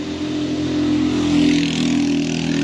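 Road traffic passes close by on a morning walk, a loud engine drone swelling to a peak midway and then easing, with the hum of other vehicles underneath.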